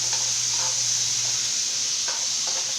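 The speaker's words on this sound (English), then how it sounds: "Now whenever you're cooking with a wok, constant stirring." Onions, garlic and ginger frying in a wok over medium-high heat, a steady bright hiss and sizzle broken by several scraping strokes of a spatula, with no one talking.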